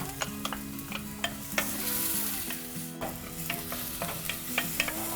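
Shallot and ginger frying in about two tablespoons of oil for clay pot caramelized spare ribs, a steady sizzle with repeated sharp scrapes and clinks of stirring, close and clear.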